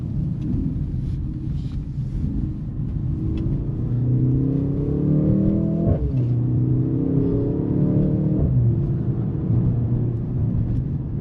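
A Mercedes-AMG GLC 43 Coupe engine accelerating from inside the cabin, a steady droning rise in pitch broken by two quick upshifts, each followed by another climbing pull, heard alone without talk.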